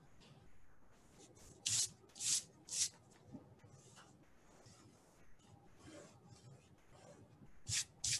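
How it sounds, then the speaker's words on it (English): An eraser rubbing out pencil lines on a violin painting in acrylics, heard as short scratchy bursts: three quick strokes early, then two more near the end, with quieter brushing in between. "Gonna rub out those two lines, yeah, the middle of the violin."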